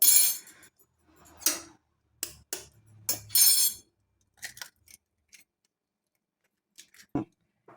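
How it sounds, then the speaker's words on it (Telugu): Eggs cracked against a bowl of chopped onions give a series of sharp, close taps and clicks spaced irregularly, with brief quiet gaps between them in a quiet kitchen. "ఇప్పుడు ఎగ్ ఇందులో వేసుకుందామండి."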